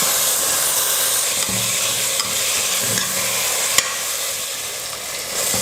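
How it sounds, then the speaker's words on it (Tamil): Mint leaves and tomatoes sauté in a pan for chicken biryani, with a loud, unbroken sizzle close by and occasional scrapes and taps from stirring. "புதினாலாம் நல்லா வதங்கிடுச்சு"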